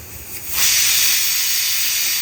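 Steam from a pressure cooker holding potatoes bursts into a loud, close hiss after a short quieter moment, then holds as a strong, steady rush to the end.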